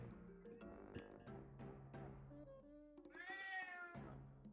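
A cat meows several times during a video game session, with tonal harmonic calls rising and falling over a busy game soundtrack, one longer drawn-out meow near the end.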